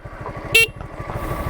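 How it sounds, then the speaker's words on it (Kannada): A modified horn fitted to a vehicle, made to sound like a BMW horn, gives one short loud toot over a steady idling engine rumble. "ಇದು ನೋಡಿ BMW ಥರ ಕೇಳ್ತಿದ್ದು ಹಾರನ್ನು."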